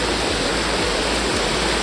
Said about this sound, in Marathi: तर बघा पाण्याचा फोर्स आहे मस्त. आणि हा अशा प्रकारे धबधबा आहे.